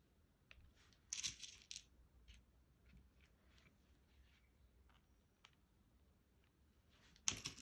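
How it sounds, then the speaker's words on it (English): Small decorative jewels drop onto a card base for a wedding heart card, making faint scattered tiny ticks and clicks in a quiet room, with two brief louder clattering bursts. "we're literally just going to drop these jewels down onto our base card"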